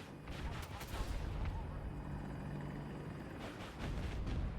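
Battlefield 2042 gameplay on a rooftop: a helicopter's steady rotor roar fills the scene as gunfire crackles in bursts near the start and end, with players talking over it.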